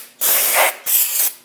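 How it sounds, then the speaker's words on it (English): Two sharp, loud bursts of aerosol parts cleaner sprayed onto a brake rotor of a Chevrolet Express 2500, each hissing for about half a second, separated by a brief pause, close up. "Using parts cleaner, spray down the rotor."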